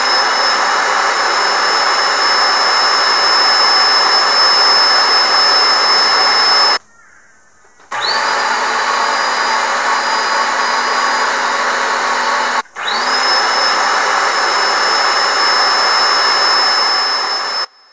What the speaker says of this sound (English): plug it into the 600 watt, and you can hear the difference in the pump sound